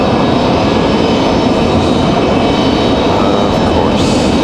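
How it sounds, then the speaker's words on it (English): A jet airliner on final approach at Raleigh-Durham airport gives a steady, loud, broadband roar that holds evenly throughout, with no talk over it. "Livery on final"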